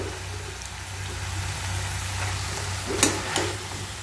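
Drumstick pods (sojina) fry in a curry pan with spices, giving a low steady sizzle with a couple of brief stirring scrapes near the end, and no talk.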